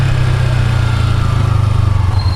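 A motorcycle engine runs loud and close while riding, a steady throbbing drone with a rapid regular pulse and no voices over it.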